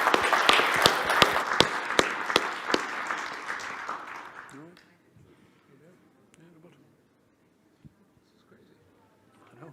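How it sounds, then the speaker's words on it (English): A conference audience at a platform engineering event claps for a speaker, a close burst of sharp individual claps that fades out after about five seconds, followed by near silence with faint voices. "let's give Debbie a giant round of applause"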